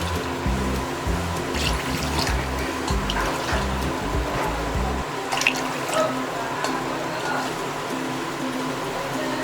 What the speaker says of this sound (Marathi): आणि हे बघा 4 कप हे पाणी घालून घ्यायचं आहे आपल्याला